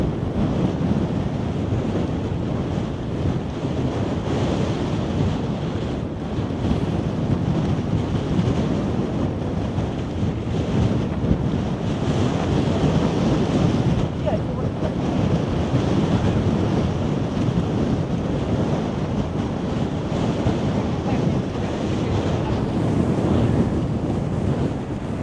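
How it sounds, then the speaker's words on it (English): Steady, heavy wind buffeting a microphone while riding a bike into a constant, non-gusty headwind, a loud continuous roar lasting throughout with no talking. "A lot of wind."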